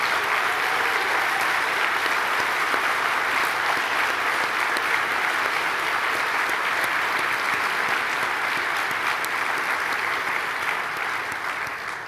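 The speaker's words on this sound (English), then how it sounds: "Let's give them a round of applause." A lecture-hall audience at a physical therapy lecture gives a long, even round of applause for past lecturers, many hands clapping steadily before fading slightly at the end.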